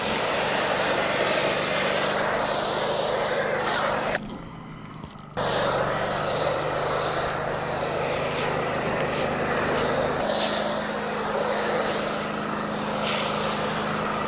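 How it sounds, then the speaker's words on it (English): Pre-foam sprays onto a car during a mobile detail, a loud continuous hissing wash with a steady low machine drone beneath, briefly cutting out for about a second midway before resuming. "give it a pre-foam and let it dwell"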